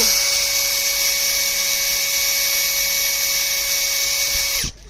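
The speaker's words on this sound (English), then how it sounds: "Just put it in and then just drill." A power drill drilling through a canoe polo helmet to fit its face guard whines steadily at high speed, loud and close, holding one pitch before spinning down and stopping at the end.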